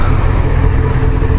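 A Romet motorcycle engine running steadily at close range, a dense continuous low rumble with no pauses across the brief moment, loud and alone without voices.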